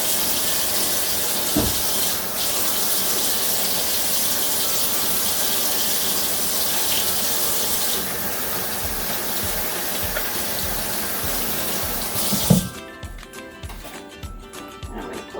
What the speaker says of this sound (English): I'm gonna wash my hands really good.